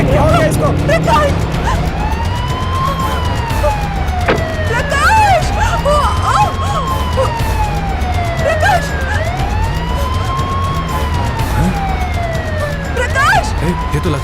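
An ambulance siren wails in a continuous rising and falling sweep, loud and close, layered over a busy background with low rhythmic sound.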